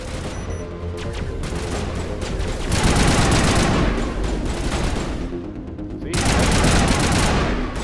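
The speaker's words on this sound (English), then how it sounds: "I said stop shooting" Sustained gunfire from Mass Effect Legendary Edition, dense overlapping bursts of automatic weapon fire and impacts that swell louder in two heavy waves, with a brief lull between them.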